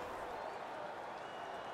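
Stadium crowd noise from the football video game Madden 16 forms a continuous, fairly faint roar of massed cheering with no distinct breaks.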